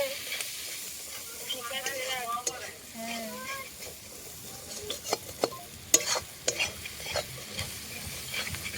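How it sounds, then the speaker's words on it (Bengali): Spices are stirred and sautéed in a pot for a family picnic biryani, with a faint sizzle and scraping stirs turning into sharper clinks and scrapes, while people talk over the cooking in the first half. "আর এই যে মশলা কষাচ্ছে সুন্দর"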